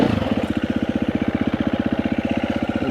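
A motorcycle engine runs at low revs during a slow pivot turn, producing a steady, close, rhythmic chugging pulse that holds even throughout with no throttle surge.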